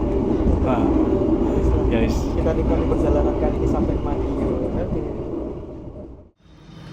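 Riding inside the Gaya Baru Malam Selatan economy-class passenger train, a loud continuous low rumble of wheels and carriage with a speaker talking over it, ending in a brief dip.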